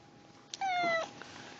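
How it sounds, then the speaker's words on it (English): A house cat gives a single clear, drawn-out meow indoors, close by and alone against quiet room tone. "My favorite cat in the house."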